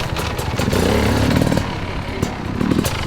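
An off-road motorcycle engine revs loudly up close, its raspy two-stroke-like note rising and falling in pitch over a few seconds, with wind noise.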